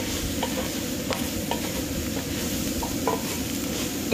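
Shrimp frying with soy sauce in a pan while being stirred: a steady close sizzle with scattered scraping clicks from the stirring utensil, no talk.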